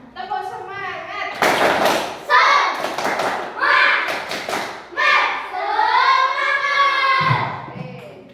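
A school class performs tepuk semangat, the spirit clap, with several rhythmic volleys of hand claps alternating with children's chanted voices, loud and close in a classroom.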